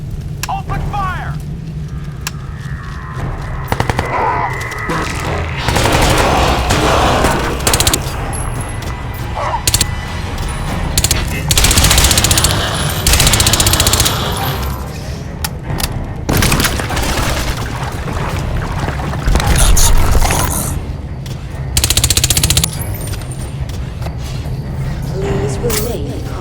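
Crysis 2 Remastered combat with bursts of gunfire and heavy booms at close range, layered over a dense, continuous game soundscape; voices speak over parts of it.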